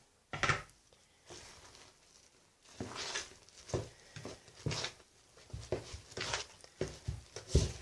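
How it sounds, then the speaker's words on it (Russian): Sweet yeast dough being mixed in a bowl, first with a spoon and then by hand, giving scattered soft knocks, scrapes and wet pats in irregular bursts, fairly quiet with no talk. "все в одну миску и замешиваем тесто."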